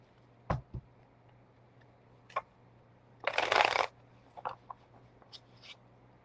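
A deck of playing cards gets one brisk riffle shuffle, a dense rustling burst of about half a second. Scattered quiet taps and card clicks come before and after it, close by, in a quiet room with a low hum.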